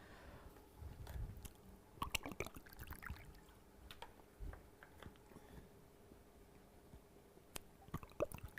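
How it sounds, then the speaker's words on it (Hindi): Someone takes a few sips of water during a quiet indoor pause, with soft swallowing and gulping sounds, faint clicks and small mouth noises spread over several seconds, close and quiet with no talking. "थोड़ा सा पानी पी लेते हैं।"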